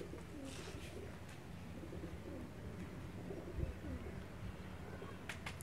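Soft, low pigeon cooing repeats in the background amid a steady hiss, with a few faint chirps and a brief thump.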